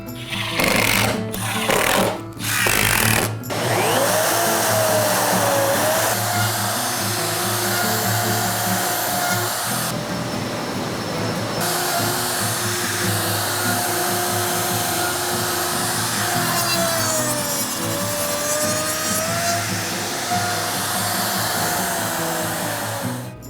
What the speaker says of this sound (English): Now we're ready to route the other side.